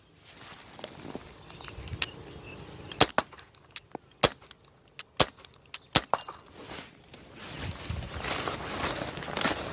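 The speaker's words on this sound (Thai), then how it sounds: "อ่ะเรายิงไอ้ขวดพลาสติกตัวทะลุไหม" Glock 19 CO2 BB pistol firing at a plastic bottle almost 50 metres away, a handful of sharp, separate pops spaced about a second apart in open surroundings.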